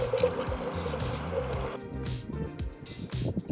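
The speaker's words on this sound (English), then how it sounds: "Got some water from the river nearby." Water being scooped and poured from a river in Alaska, with splashing, filling and trickling sounds close by, fairly steady over a few seconds with some rumbling underneath.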